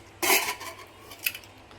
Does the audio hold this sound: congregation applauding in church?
no